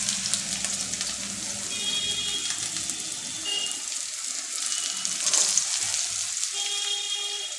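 Cut pumpkin pieces sizzle in a hot pan with green chillies, a steady hiss and crackle that swells briefly midway, close and fairly loud, with no talking.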